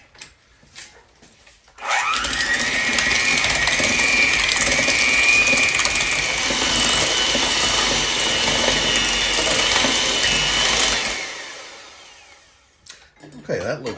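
An electric mixer creams sugar and softened butter for a spiced cake batter, running as one continuous steady whir for about nine seconds before winding down to quiet.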